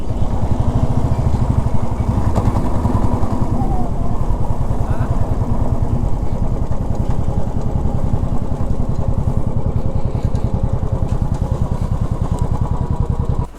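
A motorcycle engine on reserve fuel running steadily at a petrol station on a ride from Hyderabad to Nagpur, a loud, close, continuous low throbbing rumble with faint talk beneath it.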